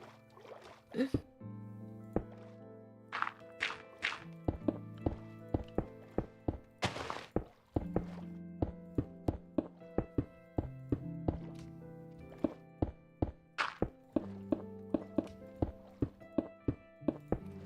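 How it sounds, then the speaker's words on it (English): Coral blocks broken underwater in Minecraft, a steady run of soft thunks and taps at a regular rhythm, with game tones sustained underneath. "I'm not enjoying destroying all these corals."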